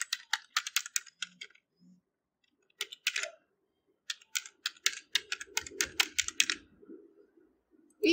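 Password typed on a computer keyboard in quick bursts of crisp, close key clicks, a pause around the middle, then a faster run of keystrokes ending with a firm press; quiet room, no talking.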